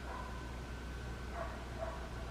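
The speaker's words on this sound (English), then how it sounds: "I don't know where that dog is barking from." A dog barks faintly a few times in the distance over a low steady background hum.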